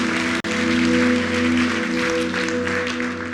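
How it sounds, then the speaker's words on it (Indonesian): A church congregation claps during a worship service, broad clapping noise laid over a sustained tonal hum of instruments or sound system, continuous and fairly loud, with one brief dropout near the start. "Berikan tepuk tangan buat Tuhan."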